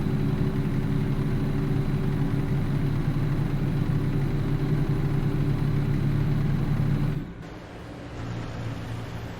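Western Star 49X truck engine in American Truck Simulator, a steady deep droning hum held at constant revs, then a sudden drop to a quieter lower idle near the end, no talking.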